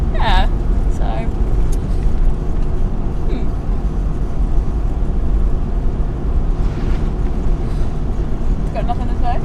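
A car drives along a road in Cambodia, with a loud, steady engine and road rumble from inside the vehicle, and people talking over it.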